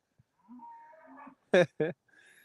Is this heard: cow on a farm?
yes